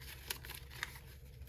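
Paper cash bills are pulled from an envelope, producing soft close crinkles and two brief sharper rustles against a quiet background.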